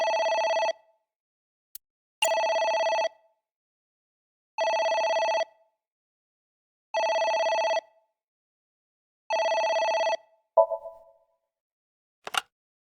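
Telephone ringing in the video game AI: The Somnium Files, a clean electronic double-trill ring repeating five times at steady intervals, loud and alone, followed by a short click and a brief tone.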